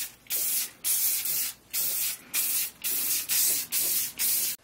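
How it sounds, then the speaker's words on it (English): Repeated bursts of aerosol spray paint hiss on an air compressor, about eight short sprays in a steady rhythm with brief pauses between, close and fairly loud. "Nothing a little spray paint can't fix."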